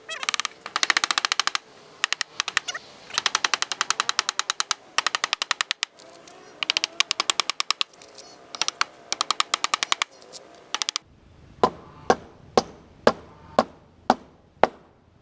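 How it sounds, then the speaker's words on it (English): Rapid bursts of sharp hammer taps come in quick runs, followed by a series of slower, louder, evenly spaced hammer blows ringing out near and alone, as nails are hammered into a board while upgrading a chicken coop. "so I've got the hammer and the nails."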